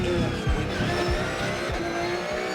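GT race cars, Porsche GT3 R machines, roar off the line together at a green-flag race start, engines loud and layered with repeated revving surges and overlapping passes close by, a faint tire squeal in the mix.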